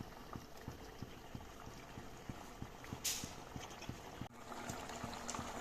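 Pot of chicken curry with potatoes boiling on the stove, a steady bubbling simmer with soft regular popping, close and fairly quiet.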